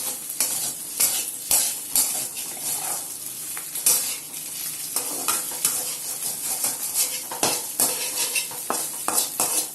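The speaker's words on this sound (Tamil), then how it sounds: "போட்டு எல்லாத்தையும் கிளறி விட்டுக்கோங்க." Egg fried rice is stirred and tossed in a hot pan, with a metal spatula scraping and clanking against the pan in an irregular rhythm over a steady background sizzle.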